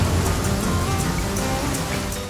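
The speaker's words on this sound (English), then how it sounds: "Oh, it's gonna rain." Steady rain in the video game The Flame in the Flood, a dense, even hiss of falling drops filling the whole clip without letting up, with no voices over it.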